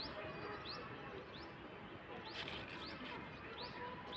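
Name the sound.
birds chirping on a guava tree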